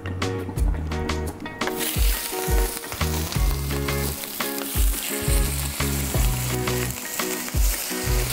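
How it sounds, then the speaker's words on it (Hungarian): Chicken thighs seasoned with salt, pepper and cloves fry in hot oil in a pan, the slightly damp meat making the fat spit. A loud, steady sizzle runs throughout, crackling and popping close by, with a rhythmic beat running underneath. "Forró serpenyőbe megy az olaj."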